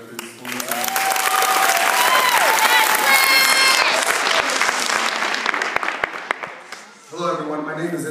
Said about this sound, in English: I want to start by giving a round of applause to all the fellow graduates there